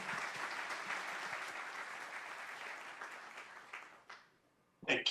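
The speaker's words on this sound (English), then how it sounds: "I would like to ask to the audience a round of applause for Dr. Prisco" An audience applauds a guest presenter at a tailings and water management talk, a steady dense wash of clapping that holds for about four seconds, thins and fades, then breaks off into a couple of sharp louder knocks at the end.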